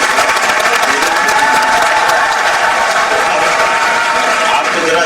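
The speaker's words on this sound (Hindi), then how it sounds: "बहुत अच्छा, इनके लिए ताली बजाओ।" A young audience at a live event with the Chief Minister in Bhopal breaks into loud, sustained applause, a dense even wash of many hands clapping throughout.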